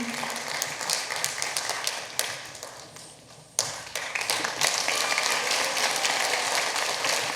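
Audience applause at a Korean American Day event in Washington State, a crowd clapping in a dense crackle that dips briefly, then surges back and continues strongly to the end.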